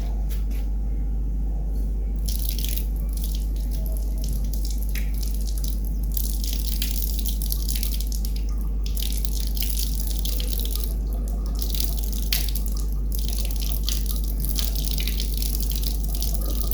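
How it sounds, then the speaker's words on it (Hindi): Water runs steadily from a tap while someone washes their face, a close, continuous splashing rush with no talk. "सबसे पहले तो मैं फेस वॉश करके आती हूँ"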